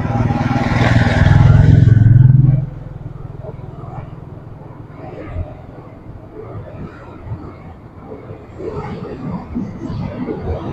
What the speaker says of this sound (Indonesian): tikungan laju lambat teman-teman karena mau berhenti di stasiun Delanggu